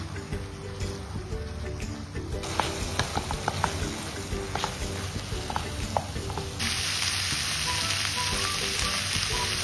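Cooked beef being stirred and fried in a pan for Kottayam-style beef ularthu, with a steady close sizzle, repeated scraping and stirring clicks throughout, the frying growing louder and brighter in the last few seconds.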